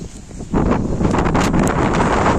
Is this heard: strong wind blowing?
yes